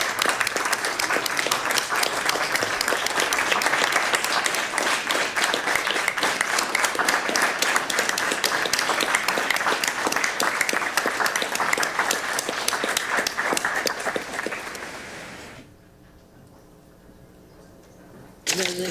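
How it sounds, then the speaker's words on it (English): An audience at a school board meeting applauds a retiree, a loud, dense burst of clapping that carries on for about fifteen seconds before cutting off sharply to near quiet, with a brief return at the very end. "How about a round of applause?"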